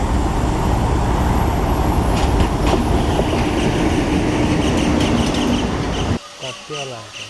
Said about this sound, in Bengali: দেখতে পাচ্ছি ট্রেন চলে যাচ্ছে